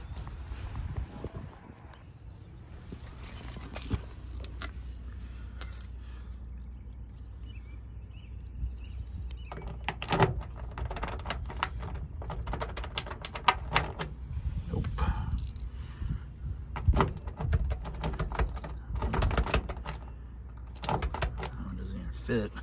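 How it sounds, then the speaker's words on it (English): A ring of assorted keys jangles and scrapes as they are tried one after another in the trunk lock of a 1965 Plymouth Belvedere II, with close metallic clinks and clicks and someone talking intermittently. "I'm gonna get my collection of keys and see if I might luck out"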